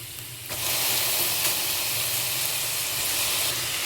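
Onions sautéed with salt, then eggplant added to the pan for an eggplant, sweet potato and tomato curry, hissing in a loud, steady sizzle that jumps up suddenly and holds strong without talk.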